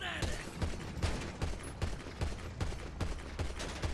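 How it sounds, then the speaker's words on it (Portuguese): Gunfire in GTA 5 zombies mode, a regular series of sharp shots roughly every half second, moderately distant and fairly faint, with a few breathy sounds but no clear talk. "Eles estão atirando."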